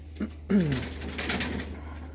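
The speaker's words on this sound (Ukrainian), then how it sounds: "Які гарні голуби, так?" Pigeons at a loft give a single soft, descending coo after a brief chirp, followed by faint shuffling against a steady low background hum.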